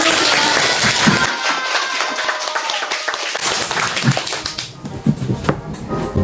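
Applause and clapping from a small group welcoming a new English teacher as a guest on a school radio show, brisk and close, fading toward the end.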